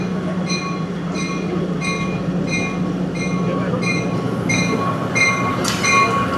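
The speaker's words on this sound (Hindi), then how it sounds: "तो 13 अब अवामी एक्सप्रेस गोल्डा जंक्शन पर अप्रोच कर रही है" Awam Express passenger train approaching Golra junction, a steady loud rumble of wheels and carriages with repeated rhythmic clatter and metallic ringing tones continuing throughout, no voices.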